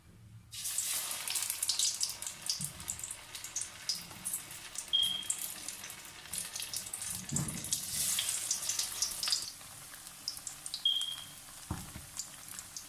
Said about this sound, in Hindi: अब इनको मैं फ्राई कर रही हूँ।